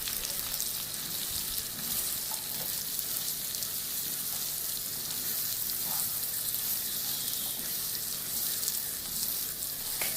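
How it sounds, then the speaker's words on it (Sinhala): Boiled chickpeas and curry leaves frying in a pan, giving a steady, dense sizzle with faint stirring scrapes throughout, close and continuous with no talk. "දැන් මේ ටික මම හොඳට කලවම් කරලා ටිකක් වෙලා බැද ගන්නවා."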